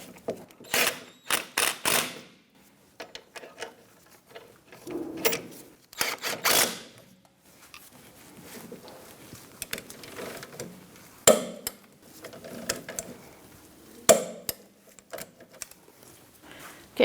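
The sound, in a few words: ratchet tightening bolts on Kia Soul parking brake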